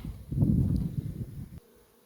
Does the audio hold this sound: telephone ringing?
no